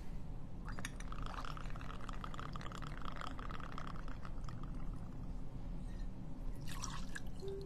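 Rum is poured into a mixed drink with some splashing, giving a close, steady liquid trickle and drip over a low background hum.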